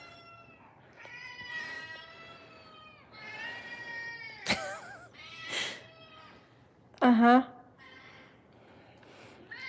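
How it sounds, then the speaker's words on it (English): A cat meows several times up close, long wavering tonal cries with one louder, sharper meow near the end, while a person murmurs briefly in between. "That was a beautiful meow"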